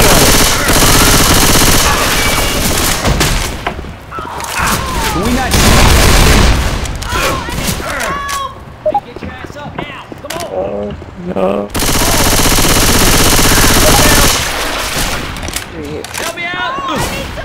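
Bursts of automatic gunfire in the zombie shooter Left 4 Dead 2, loud rapid volleys with gaps between, interleaved with shouting voices of players and characters.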